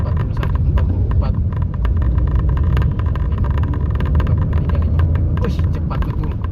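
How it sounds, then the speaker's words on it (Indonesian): A Daihatsu Rocky 1200 cc car drives on a wide road, its interior filled with a loud continuous engine and tyre rumble, while someone talks over the steady drone. "Saya akan tes bagaimana mobil ini di jalan yang lebar seperti ini"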